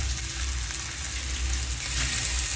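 Prawns frying in hot oil give a loud, steady sizzle and crackle that fills the whole stretch without any break or voices.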